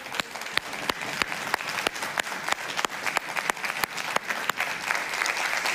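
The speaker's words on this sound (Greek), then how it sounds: "Ένα μεγάλο χειροκρότημα." Studio audience on the Greek TV show Big Brother claps loudly and continuously, a thick, even wash of applause with sharp individual claps standing out throughout.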